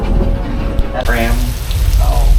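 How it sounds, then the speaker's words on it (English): A staged flood effect on the Universal Studios tram tour sends a loud, steady rush of splashing water past the tram, with riders' voices mixed in. "There's a flood coming."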